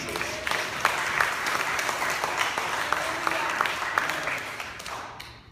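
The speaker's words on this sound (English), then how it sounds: "Let's clap our hands for Jesus." A church congregation claps hands together during a sermon, a dense steady wash of applause with scattered sharper claps and a few voices rising through it, fading slightly at the end.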